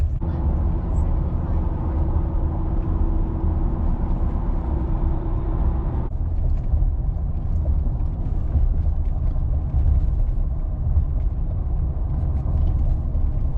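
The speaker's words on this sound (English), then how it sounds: "Okay, so I'm gonna let y'all listen to the road noise" Road noise inside a Ford F150 on hybrid tires, a low steady rumble with a smooth hum throughout, shifting slightly in tone partway through.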